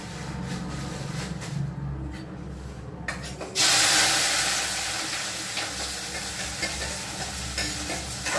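Tadka tempering hits hot oil with a sudden loud sizzle partway through, a bright spraying hiss that stays steady and slowly eases. Quiet kitchen stirring and background hum come before it, with no talk.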